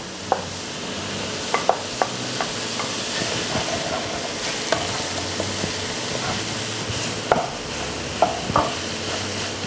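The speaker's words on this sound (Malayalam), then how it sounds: "ഇതിലേക്ക് തന്നെ നമ്മളെ വെണ്ടയ്ക്ക ഇട്ട് കൊടുക്കുക." Sliced okra and onion fry in a hot pan, giving a steady close sizzle with repeated sharp taps and scrapes of a spoon stirring against the pan.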